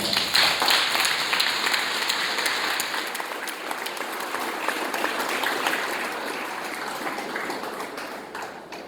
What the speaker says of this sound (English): a round of applause to yourselves for a really superb job